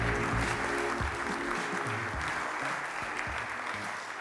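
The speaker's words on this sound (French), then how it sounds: "Gabrielle, je vous laisse rejoindre Thierry, on peut l'applaudir à nouveau." Sustained applause from the audience at an award ceremony during a prize presentation, dense and steady throughout, with a low held musical tone underneath.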